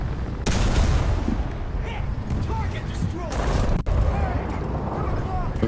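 Gunfire in a tank video game while driving an M18 tank destroyer: a sharp shot near the start and another pair of blasts past the midpoint, loud over engine rumble, with a player talking throughout.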